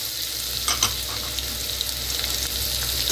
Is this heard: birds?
no